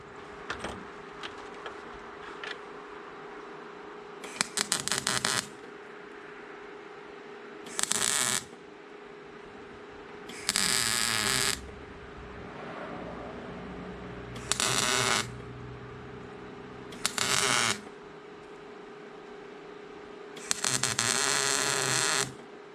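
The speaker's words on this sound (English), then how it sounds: "Gonna build up some welds and make her stick on there." Welding on a dump truck tailgate: several separate bursts of harsh crackling buzz, each a second or two long, close and loud over a steady electrical hum in the gaps, with no talking.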